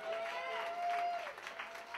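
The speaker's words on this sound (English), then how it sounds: "So give them a round of applause." An audience applauds a rock school band, dense clapping with a few cheers while a sustained whistle-like tone rings above it.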